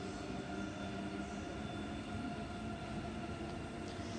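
Interior of a German train travelling from Frankfurt to Berlin, a steady faint rumbling hum with low rolling wheel noise, continuous and even with no voices.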